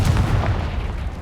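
A Confringo blasting spell detonates in the Hogwarts Legacy video game as one short, heavy, booming explosion with a deep rumbling body.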